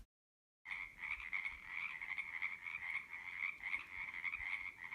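Frogs croaking outdoors in a dense, continuous chorus of rapid trilling calls that begins after a short silence and carries on at a steady, moderate level with no talk.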